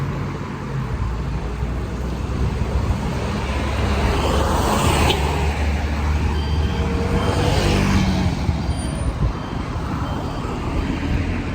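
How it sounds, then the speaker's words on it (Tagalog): Heavy evening road traffic in Taiwan, with a steady loud rush of many cars and trucks passing close by and swells as bigger vehicles go past, and no voices. "Grabe daming sasakyan."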